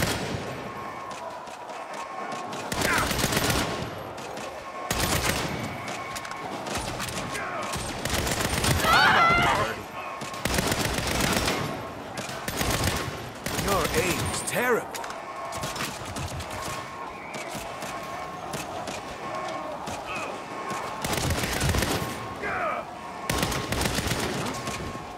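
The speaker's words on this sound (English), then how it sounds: "I mean shoot my way out." Gunfire in a Saints Row video game shootout, loud repeated bursts of automatic and single shots with heavy impacts and explosive thumps, running almost continuously with brief lulls.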